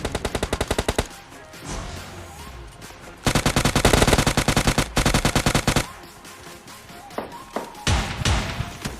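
Gunfire in a battle royale video game fight: rapid automatic bursts, loud and close, come in long sprays separated by short pauses, with scattered single shots and thuds toward the end.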